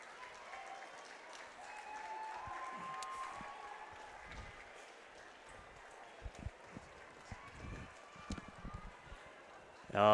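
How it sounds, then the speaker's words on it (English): A stadium crowd at a Little Athletics Queensland track championship applauds an athlete, with sustained clapping and crowd noise from a distance and some closer thumps near the end. "People already standing up, getting ready to applaud."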